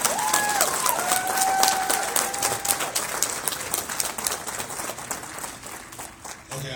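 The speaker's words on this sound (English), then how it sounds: "our guest here, that is national, we're going to give her a round of applause like we do in Iowa." A banquet audience at a fundraiser gives a round of applause, a dense burst of many hands clapping that starts full and gradually thins out toward the end, with a faint whistle early on.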